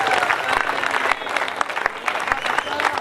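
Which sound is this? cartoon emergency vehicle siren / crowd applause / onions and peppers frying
crowd applause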